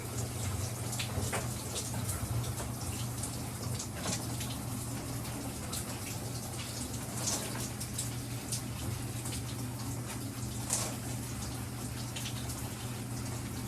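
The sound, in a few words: shampooing hair and scrubbing the scalp under water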